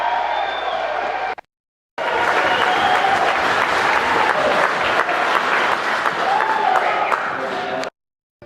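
Gallery audience in a state House chamber bursting into loud sustained applause and cheering after a speech, clapping dense and continuous, cut off briefly near the start and again at the end.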